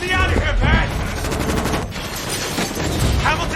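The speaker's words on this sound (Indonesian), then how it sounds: "membabi buta menghamburkan peluru ke dalam kantor serif" Rapid bursts of loud gunfire crackle in quick succession, a sustained volley of shots into a sheriff's office in a film, with a booming, cinematic quality.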